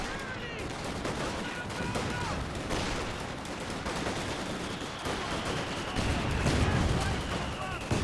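A dense, continuous crackle of rifle and machine-gun fire in a Company of Heroes 2 four-versus-four battle, rolling on with distant booms under a speaking voice.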